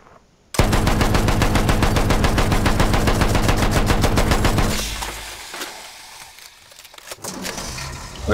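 A long, loud burst of rapid automatic gunfire from Battlefield 1 hammers on for about four seconds, then fades into quieter game ambience with a few scattered thuds and clatters.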